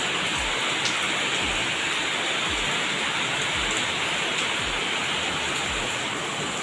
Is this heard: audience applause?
no